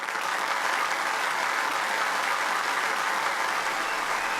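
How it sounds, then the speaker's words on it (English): Continuous, dense applause from a virtual reality talk show finale in Altspace VR, steady and fairly loud throughout with no clear gaps. "we only have one person that's clapping about that"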